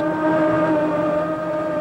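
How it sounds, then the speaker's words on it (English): The high-pitched Lamborghini engines of an offshore powerboat racing at Long Beach, California, in 1990 hold a steady, loud whine with strong layered harmonics, close and constant throughout. "This is the only Lamborghini-powered boat in the fleet. Listen to the high pitch of the engines."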